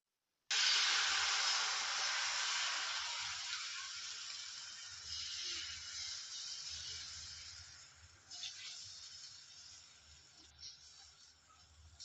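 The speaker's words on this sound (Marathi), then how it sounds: "आता हे बॅटर टाकू तव्यावर" Besan dosa batter poured onto a hot tava sets off a loud, steady sizzling hiss that fades gradually over several seconds, with soft low cooking noise underneath.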